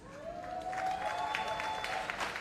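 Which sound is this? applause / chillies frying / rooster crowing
applause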